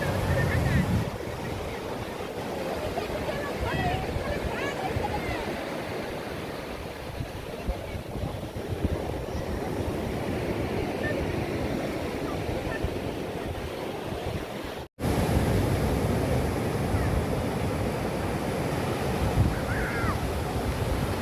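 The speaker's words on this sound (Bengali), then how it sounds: "কতটা দূর থেকে আসছে ঢেউটা।" Sea waves roll in and break on the beach at Digha, a constant roaring surf wash with gusts of wind buffeting the microphone, steady and fairly loud, with a brief cut partway through.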